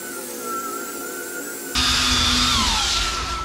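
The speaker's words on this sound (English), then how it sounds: "I'm just sanding with a belt sander a couple of the spots that I had filled with the epoxy" A belt sander grinds over epoxy-filled spots in a wide-board pine floor, a steady whine that jumps louder and rougher midway as the sander bites into the wood, with no talking.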